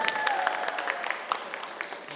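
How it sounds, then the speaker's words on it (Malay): An indoor audience claps to welcome a guest at a formal event. The dense, even applause runs throughout at moderate loudness, with a few brighter individual claps standing out. "Kita beri tepukan kepada Encik Satya"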